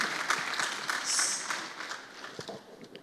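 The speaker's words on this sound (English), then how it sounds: "Another round of applause, please, for Professor Ibrahim Gambari" Audience applause after a lecture in a media lecture series, a close, steady patter of many hands clapping that swells slightly near the middle and thins toward the end.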